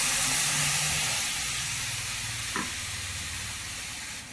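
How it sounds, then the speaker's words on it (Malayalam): Tamarind water hits fried chillies in a hot pan, making a loud, continuous steamy hiss and sizzle that slowly fades over several seconds, with a brief clink partway through. "ഇനി ഇതിലേക്ക് നേരത്തെ എടുത്തു വച്ചിരിക്കുന്ന പുളിവെള്ളം ഒഴിക്കണം."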